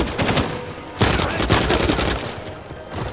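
Sniper and other gunfire in Uncharted 4, a dense fusillade of loud, rapid shots with a strong burst near the one-second mark, continuing steadily throughout in the middle of combat.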